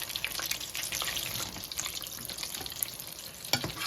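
Country fried venison backstrap frying in hot oil on a lowered heat, a steady close crackling sizzle with scattered pops running throughout, no voices.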